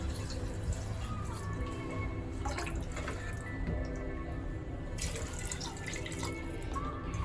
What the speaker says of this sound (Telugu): ఇప్పుడు వచ్చేసి నేను వాటర్ వేస్తున్నాను దీంట్లోకి